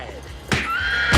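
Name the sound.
horse neighing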